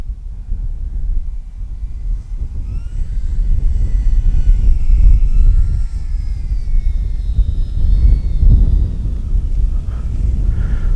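An FMS Kingfisher RC airplane flies on a windy day, its thin electric motor whine rising and falling over heavy, continuous wind buffeting on the microphone.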